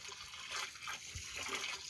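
River water is poured inside a swiftlet building to fill water tubs, making a steady, fairly quiet splashing flow that continues without a break.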